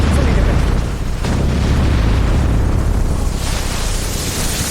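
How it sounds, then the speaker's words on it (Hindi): Blue Origin New Glenn rocket exploding on its Florida launch pad, a sustained loud roaring blast with rumbling low end and a sharper burst early on, continuing as a dense wall of noise. "धमाके के बाद रॉकेट आग के गोले में तब्दील हो गया।"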